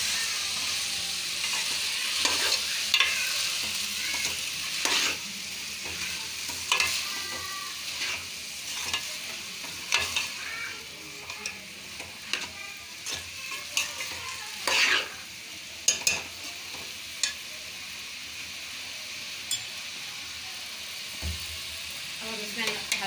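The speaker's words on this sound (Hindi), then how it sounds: "अब हम इसमें डालेंगे अपनी मटर, अच्छी तरह से मिक्स करेंगे।" Green peas frying in a pan while being stirred with a spoon, a continuous close sizzle broken by repeated scraping strokes and clinks, no speech over it.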